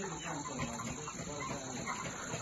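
Chickens clucking inside a poultry farm shed in Beed, a dense continuous flock murmur at steady moderate level, with no voices over it.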